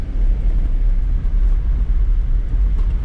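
A 2012 Infiniti QX56 rolls over a bumpy, potholed road, giving a continuous low cabin rumble with soft thumps from the uneven surface, steady and moderately loud.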